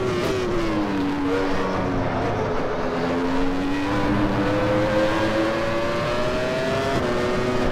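A race car engine from the F1 1996 sim racing game drones continuously at Barcelona, pitch rising and falling through gear changes as laps are driven, with no talk over it.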